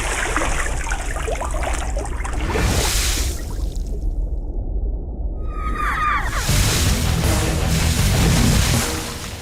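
Water thrown and splashing during a tense scene in a Hindi-dubbed South Indian action film, a loud wash of noise that breaks off briefly midway and then surges back with no voices.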